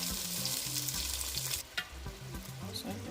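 Heavy cream poured into a hot pan for chicken alfredo, a loud hiss of sizzling that cuts off sharply partway, followed by softer bubbling and stirring clicks.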